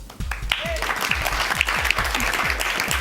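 Audience applause at a quiz bowl match, steady clapping filling the room, with a low rhythmic thumping running beneath it.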